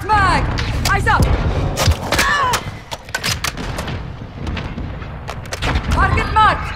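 Mortar strike explosions in Call of Duty Modern Warfare 2 land in a rapid series of heavy booms and sharp gunfire-like cracks, loud and near, with a radio voice heard over the barrage.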